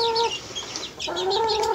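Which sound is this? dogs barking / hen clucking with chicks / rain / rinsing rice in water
hen clucking with chicks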